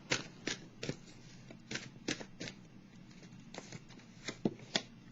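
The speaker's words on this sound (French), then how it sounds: "Je vais piger une dernière carte de l'oracle de l'âme intuitive ici, pour le signe du Sagittaire." Tarot oracle cards are shuffled in a quiet room, a series of short, crisp riffling bursts with brief pauses between them, heard alone at close range.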